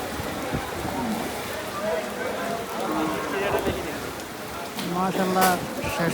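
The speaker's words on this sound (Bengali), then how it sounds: "বৃষ্টি হচ্ছে।" Rain falls steadily at an outdoor livestock market held for Eid al-Adha, a dense hiss of drops on surfaces with scattered nearby voices and crowd noise underneath.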